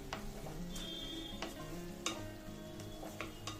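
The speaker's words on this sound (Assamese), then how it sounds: "ইয়াতে দিছোঁ অলপ হালধি পাউডাৰ, দি গোটেইখিনি আকৌ অলপ লৰাই দিম" Vegetables sizzling and being stirred in a frying pan after turmeric powder and salt are added, with repeated scraping strokes of the spoon over a steady close-up fry.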